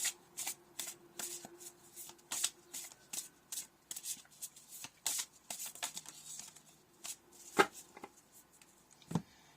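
Tarot cards are shuffled by hand at close range, a long run of quick papery riffles and flicks in uneven bursts with brief pauses, a sharper snap near the end, quiet room otherwise.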